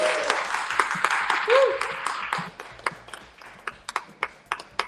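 Audience clapping for an author at a book conference in Manhattan, a steady wash of applause that thins out into a few separate, louder claps near the end.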